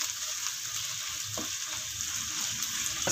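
Crushed garlic and ginger sautéing in hot oil for a Kerala fish curry, a steady close sizzle with faint stirring and no talk.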